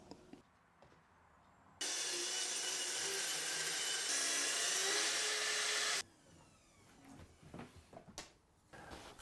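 Power saw cutting thin strips of real oak edge banding against a softwood depth stop: a single steady, loud whining cut of about four seconds, preceded and followed by quieter workshop handling sounds.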